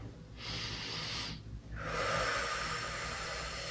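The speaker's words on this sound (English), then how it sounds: "Just take a couple nice deep breaths on it." Two slow, deep breaths taken during myofascial release on a ball, each a soft, close airy rush, the second longer and fuller, with a brief pause between them.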